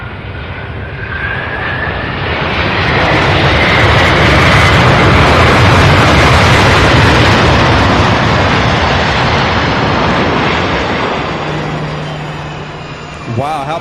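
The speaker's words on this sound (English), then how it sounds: "Let's get this MD-11 landing now." An MD-11 airliner lands at Louisville airport with a loud, broad jet roar that swells, holds at a peak and slowly fades as it passes close by. Talk is briefly audible at the end.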